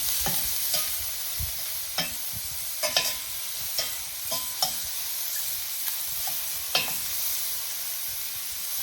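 Unsalted butter sizzles in a pan on medium-high heat with a constant close hiss, broken by regular scrapes and taps as a utensil stirs across the bottom.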